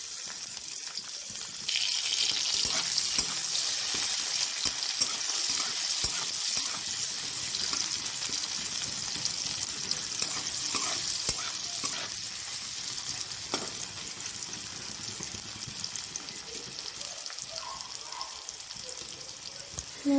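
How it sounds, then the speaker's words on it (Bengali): Chopped onion sizzles in a little oil in a wok (kadai) for a soybean and potato curry, a dense, bright, continuous hiss near at hand with occasional spatula scrapes and clicks as it is stirred. "আমাদের পেঁয়াজ ভাজা হয়ে গেছে।"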